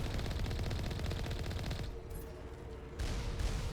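Rapid automatic gunfire in the video game Mass Effect, a dense rattling burst that breaks off briefly and then resumes, loud and close.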